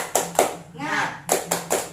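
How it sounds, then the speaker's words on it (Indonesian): Schoolchildren clap in a classroom, a few sharp, evenly spaced claps split by a brief spoken or chanted word in the middle. "yuk kita lakukan tepuk semangat"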